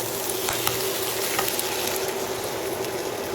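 Garlic and onion fry in a pan with cream being added, making a steady, close, even sizzle and crackle that holds throughout with no voices.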